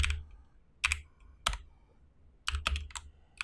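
Someone types programming code on a computer keyboard in short, irregular bursts of crisp key clicks with quiet gaps between them. The clicks sound close and soft, and no one speaks.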